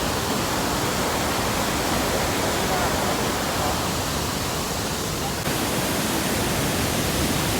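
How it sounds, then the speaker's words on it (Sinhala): Water pours heavily at Bopath Falls, a dense, unbroken roar filling the whole stretch at constant loudness, close by and with no clear voices. "වතුර පාර පට්ටම තරයි දැන් නම්."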